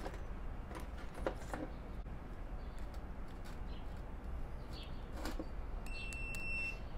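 A multimeter in continuity mode sounds a faint, steady high-pitched beep near the end, rising out of a soft background hiss after several seconds of near-quiet fiddling.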